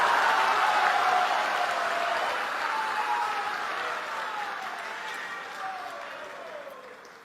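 An audience at a spiritual discourse by Indian Prime Minister Narendra Modi at a Gaudiya Math breaks into sustained applause, with dense, loud clapping that slowly fades over several seconds.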